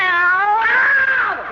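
A cat lets out a long, loud, drawn-out meow that rises into a wavering caterwaul before trailing off, heard alone in a radio drama scene.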